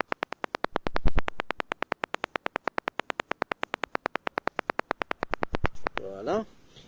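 Car reversing parking sensor tested with a microphone pressed against it, giving a rapid steady train of sharp beeping clicks, close and clear, with a voice briefly talking over it near the end.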